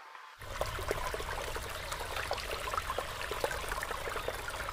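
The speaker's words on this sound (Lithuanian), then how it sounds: "Nu tai čia pagal viską Fordo upelis." A small village stream, the Ford brook in the Slaughter villages, trickles and babbles steadily at close range, a constant watery flow with light splashy detail and no voices.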